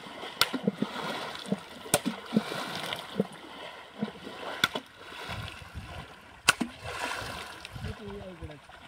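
Water surface is slapped and splashed to drive fish into a kandal fishing net in Konkan, sharp irregular splashes and gurgling spread across the stretch, with people talking throughout.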